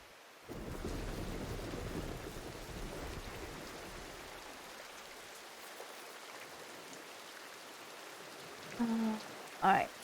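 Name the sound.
thunderstorm with rain in video game Diluvian Winds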